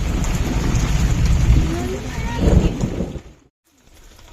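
Heavy rain pours with a deep rumble underneath, then cuts off abruptly to near silence before resuming faintly.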